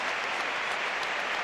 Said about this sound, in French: Applaudissements pour Marion Bartoli qui sort